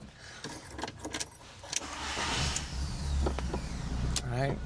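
A car engine cranks and catches inside a garage, with clicks and rustling early on, then a steady low idle rumble building and holding; brief voice sounds occur.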